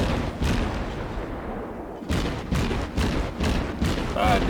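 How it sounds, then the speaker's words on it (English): Naval guns booming in World of Warships as a ship fires at an enemy Chester cruiser, several heavy broadband blasts in quick succession after a quieter lull, with a player's voice speaking over the game. "Let's see if I can get some shots on this Chester over the top of the hill"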